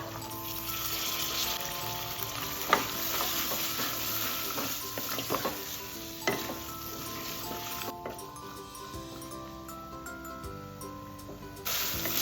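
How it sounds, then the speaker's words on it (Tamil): Carrot, potato and peas fry with ginger, garlic and curry leaves in a pan, giving a continuous moderate sizzle with occasional stirring scrapes and clinks, close, steady and without speech. "இஞ்சி பூண்டு கருவேப்பிலை எல்லாம் சேர்த்ததுக்கப்புறம் ஒரு கேரட்டு, ஒரு உருளைக்கிழங்கு, கொஞ்சம் பட்டாணி சேர்த்துருக்கேன், இதை சேர்த்துடலாம்."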